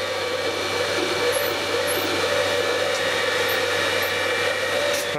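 Dishwasher pump motor overdriven by a variable frequency drive at 100 Hz, giving a steady, loud whirring hum with airy rushing noise that runs unbroken throughout.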